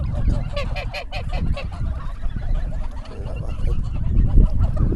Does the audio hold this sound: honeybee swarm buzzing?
no